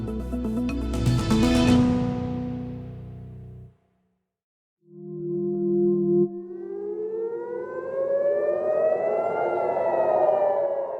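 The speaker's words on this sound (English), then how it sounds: "Warning sirens sound in Tel Aviv as Israeli defense systems shoot down a missile" Warning sirens in Tel Aviv during a missile attack: a broadcast sting opens with a brief silent gap, then a loud, rising siren wail builds and holds steady, with no talk.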